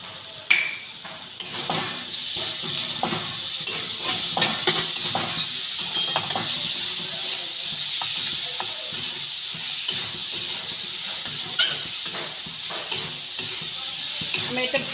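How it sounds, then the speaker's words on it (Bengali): Ginger, garlic and green chili paste frying with spices in a pan, a steady loud sizzle and hiss with frequent scraping stir strokes and occasional clinks of a spatula against the pan. "ভালো করে মশলাটা কষিয়ে নেব"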